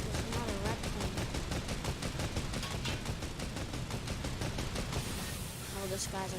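Rapid, continuous gunfire from planes in a video game air battle, dense rhythmic bursts in quick succession that stay loud throughout, with a voice talking over it.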